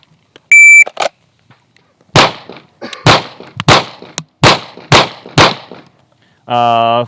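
Six sharp pistol shots ring out loud and close during a lateral Bill Drill on a shooting range, fired in a quick uneven series, with an electronic shot-timer beep before them and another after.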